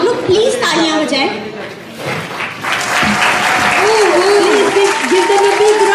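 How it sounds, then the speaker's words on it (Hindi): Audience at an international cake competition in Jeddah bursts into sustained loud applause, dense clapping filling the room with a little laughter and chatter mixed in, while a voice speaks over it. "Give them a big round of applause."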